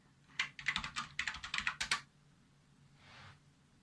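Someone types an email address and password on a computer keyboard while signing in to a remote-access account on a Raspberry Pi setup: a quick burst of close, crisp key clicks, then a brief pause and one softer tap.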